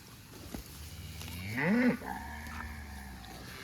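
Cattle in a cow/calf pasture in central Missouri, where a single low moo rises and falls at moderate distance over a quiet outdoor background.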